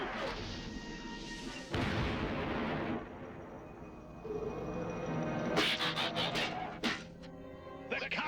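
Gunfire and artillery blasts rattle through an animated Transformers Generation 1 battle, with dense crashing volleys, sharp cracking shots and rumbling impacts layered over a noisy soundtrack.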